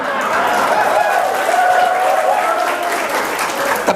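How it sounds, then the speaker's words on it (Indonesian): Audience applause fills a hall at a halal bihalal gathering during a religious sermon, a loud, even wash of clapping with a faint voice running underneath. "Tepuk tangan itu keluar dari nurani hati"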